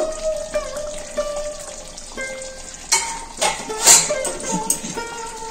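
A lid clanks as it comes off a pot of slow-cooked mutton kasha, with a few sharp metallic knocks and scrapes over a soft background sizzle in a home kitchen.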